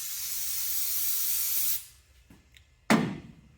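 A steady hissing aerosol cleaner spray blasts onto an old engine's mating surface for under two seconds, then cuts off, followed by a couple of faint clicks and a sharp knock.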